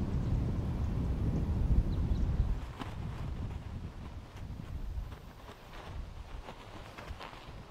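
Wind blows outdoors across a disc golf course at a professional tournament, with low gusty rumbling that eases after a few seconds and carries on more faintly.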